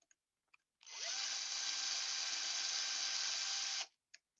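Power drill with an ordinary wood drill bit boring a hole, a steady high whirring whine lasting about three seconds, close and fairly loud, with faint clicks just before and after.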